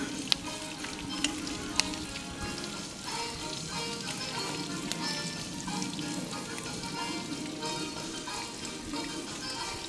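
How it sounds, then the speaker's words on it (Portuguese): Oil sizzles and crackles steadily in a pan as fresh fish fries up close, with a few small pops and no voices. "Bem pega, a gente tá fritando."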